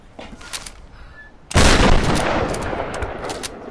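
Lara's weapon fires in Tomb Raider (2013) with a sudden loud blast and roaring burst partway through, after a quieter stretch of light scattered sounds.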